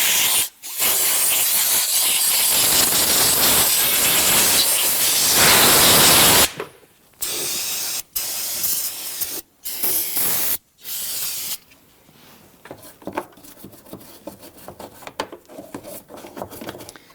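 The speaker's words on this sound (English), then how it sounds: "Now we're going to choose to do the compressed air. It's quickest and the most efficient." Compressed air blasting debris away around the fuel pump module of a 2010-2019 Ford Taurus 3.5L V6: a loud, steady hiss for about six seconds, then several short bursts separated by gaps, with faint rustling afterward.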